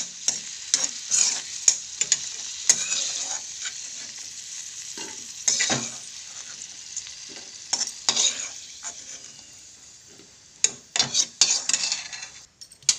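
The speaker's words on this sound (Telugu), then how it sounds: "ఇందులోనే మనం రవ్వని ఫ్రై చేసుకుందాం." Semolina (rava) frying in a pan for a festival prasadam sweet, with continuous soft sizzling and repeated scraping stirs of a utensil against the pan, close and fairly quiet, no voices.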